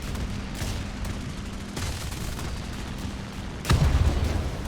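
A 20 mm aircraft cannon fires in War Thunder during a dogfight with a P-47, giving a few short bursts over a steady engine drone, and a heavier, louder burst near the end.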